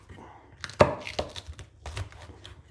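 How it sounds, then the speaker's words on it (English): Chili peppers pounded with a pestle in a mortar for fermented hot sauce: one sharp thud followed by several softer, irregular knocks and grinding taps, close up. "I'm just going to use a pestle and mortar"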